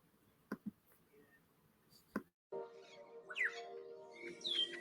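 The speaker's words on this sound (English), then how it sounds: "listening to the different birds chirp with their many songs" Several wild birds chirp and sing outdoors, with a few sharp rising whistles and brief tweets over a steady low hum, after some isolated clicks at the start.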